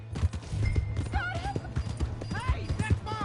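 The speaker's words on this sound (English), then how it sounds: "Hey, that's my horse!" Horse hooves clip-clop in a steady rapid rhythm in the video game Red Dead Redemption 2, close and clear, with a neigh and voices speaking over the galloping.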